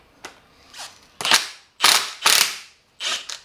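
Power tool, likely an impact wrench, disassembling the strut spring of a Corvette Z06, several loud bursts of rapid hammering with short pauses between them, close and alone.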